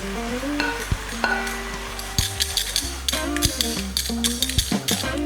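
Carrots, peppers and courgettes stir-frying with chicken in a wok, a steady close sizzle with scraping and tapping of a utensil against the pan over a low background hum.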